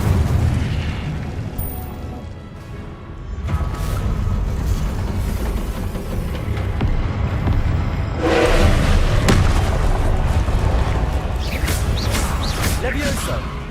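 Fiery spell blasts from the Incendio charm in the Hogwarts Legacy video game, loud booming whooshes that swell in two broad bursts over a constant roar of game effects, with a voice talking throughout.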